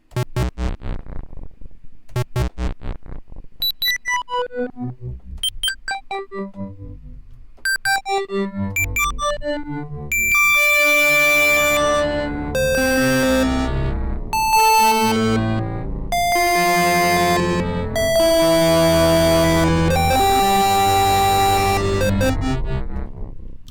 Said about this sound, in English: We're going to have this thing shift down 12 semitones